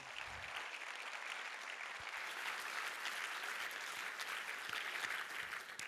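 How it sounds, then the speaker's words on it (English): A large seated audience at a film symposium claps in a steady, dense, continuous patter that holds evenly throughout, heard from a moderate distance with no voices over it. "Yes, go on, clap"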